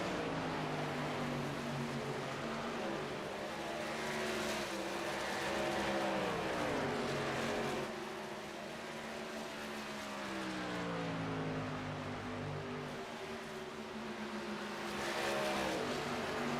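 Racing trucks on Goodyear Racing Eagle tires at Chicagoland Speedway roar around the track in a truck series race, engines droning loudly with pitch sweeping up and down as several trucks pass in a continuous stream.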